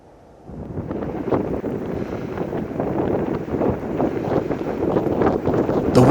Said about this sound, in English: The wind started blowing like crazy